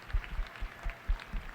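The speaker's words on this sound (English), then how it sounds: "Another round of applause for Mel." Scattered applause from a small audience at a live marathon-running show, with a handful of separate, uneven claps standing out rather than a dense ovation.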